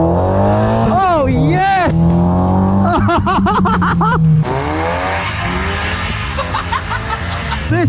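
Kit car built on a Mark III Mazda MX-5 with a limited-slip differential, driven on the road and accelerating hard, its engine note rising through gears with shifts, close and loud, while someone talks excitedly over it.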